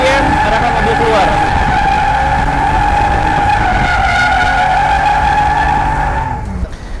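A car drifting in donuts screeches with a sustained, loud tire squeal over a revving engine, the squeal holding steadily for several seconds before tapering off.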